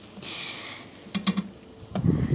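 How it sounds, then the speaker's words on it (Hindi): Minced meat and potatoes fry in a pan for aloo keema, giving a soft steady sizzle with a few stirring clatters and a louder burst of frying near the end, heard alone. "अच्छी तरीके से इसको 5 से 7 मिनट जो है वो भून लेना है"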